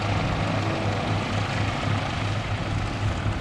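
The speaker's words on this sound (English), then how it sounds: "It's a Cessna, a training plane." A Cessna training plane drones overhead, a steady, loud propeller and engine roar that holds constant throughout with no voices.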